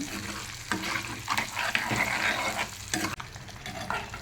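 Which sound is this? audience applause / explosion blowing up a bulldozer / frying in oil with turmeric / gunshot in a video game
frying in oil with turmeric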